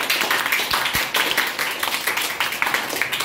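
Classroom audience clapping for a student who placed third in a school knowledge quiz, a steady patter of many hands over about three seconds with uneven bursts and no talking.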